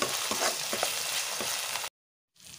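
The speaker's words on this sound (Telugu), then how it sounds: "ఆయిల్లో అయితే స్మెల్ పోయే వరకు అయితే అల్లాన్ని మంచిగా వేయించుకోవాలి" Ginger sizzles and crackles in hot oil while being stirred for a Kerala-style prawn roast, a loud, close, steady fry with stirring scrapes. It cuts off abruptly and then resumes briefly.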